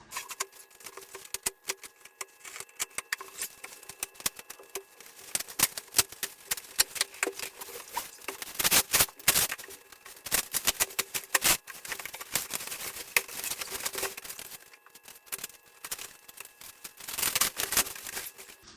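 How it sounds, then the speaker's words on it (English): Scissors snip and tear through packaging while a solar panel is unpacked in a dorm room, giving irregular crisp cuts, crinkles and rustles, some bursts louder than others, with no talk. "So I'm gonna open up with some scissors."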